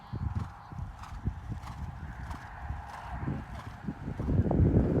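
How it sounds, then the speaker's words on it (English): Horse hooves in a canter during an intermediate-level dressage test at a horse trials event, a steady rhythmic clip-clop on an arena surface with light wind noise, getting louder and closer toward the end. "Making sure I keep the cadence of the canter."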